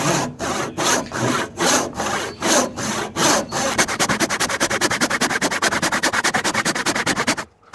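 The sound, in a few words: coping saw cutting a wooden tenon joint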